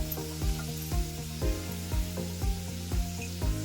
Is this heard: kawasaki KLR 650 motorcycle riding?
no